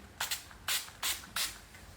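Four quick hissing spray bursts, close and crisp, spaced roughly evenly with brief quiet gaps between them.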